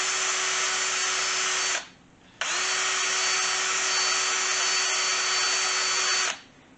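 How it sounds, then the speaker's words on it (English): A power drill spins a small stainless steel wire brush to clean out holes in a plate for a KZ400 motorcycle build, making two long, steady, close whines separated by a short pause. "you get these little stainless steel wire brushes that you can use on your drill"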